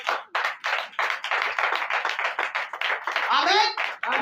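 Rhythmic hand clapping in a French-speaking church service, acclaiming the Lord Jesus: steady, close, even claps run throughout, with a voice rising over them toward the end.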